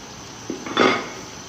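Boiled eggs drop into masala in a cooking pot for egg biryani, a couple of brief clinks and a soft clatter against the pot within a quiet second.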